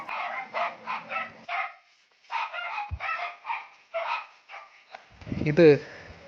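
A young golden retriever puppy barks in quick, repeated bursts close by, pausing briefly before another run of yaps and a rougher, scuffling noise.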